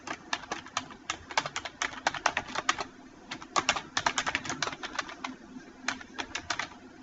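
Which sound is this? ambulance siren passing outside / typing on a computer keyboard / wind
typing on a computer keyboard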